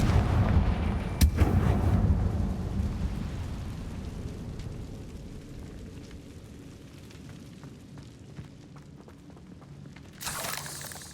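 A Confringo fire spell blast in Hogwarts Legacy, a heavy booming explosion with a sharp crack, then a long rumbling decay and scattered crackles, ending in a brief noisy burst.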